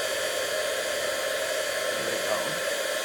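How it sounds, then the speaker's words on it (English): An embossing heat tool blows a steady, loud hiss of hot air as it melts embossing powder on a stamped card, continuous and unbroken for a few seconds with no talking. "heating up the embossing powder"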